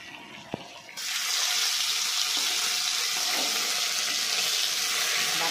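Ground brahmi leaf paste dropped into very hot mustard oil in a wok sets off a sudden loud, steady sizzle that holds evenly for several seconds, with no talking.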